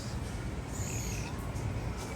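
Ibises chirping and chattering while nesting in palm trees, a steady outdoor chorus of thin calls over a constant low rumble of background noise, fairly distant and continuous.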